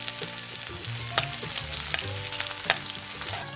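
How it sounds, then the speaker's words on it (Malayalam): Chopped ginger and garlic sauté in hot oil in a pan for an apple curry, a steady broad sizzle with occasional sharper spatters and stirring clinks, close and continuous with a background music-like hum and no talking. "അരിഞ്ഞ് വെച്ചിരിക്കുന്ന ഇഞ്ചി, വെളുത്തുള്ളി ഇട്ടിട്ട് ഒന്ന് വഴറ്റി കൊടുക്കാം"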